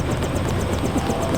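A helicopter in the video game Deus Ex drones steadily, its rotor beating as a fast, even chop over a constant engine rumble, loud and close with no talk.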